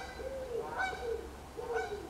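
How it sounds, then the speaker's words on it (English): Geese flying over give two clear, fairly near honks about a second apart, each with a rising and falling call. A low, steady outdoor rumble continues underneath. "we've got geese going over"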